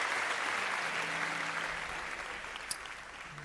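An audience on a television talk show applauds the orchestra, a soft, steady wash of clapping from a distance that gradually fades, with a low hum underneath.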